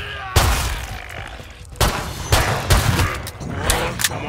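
An FN FAL rifle with ACOG sight fires in Killing Floor 2, sharp single shots spaced irregularly about half a second to a second apart, loud and close over a dull game background.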